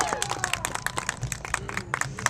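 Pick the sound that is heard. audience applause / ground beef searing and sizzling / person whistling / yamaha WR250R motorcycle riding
audience applause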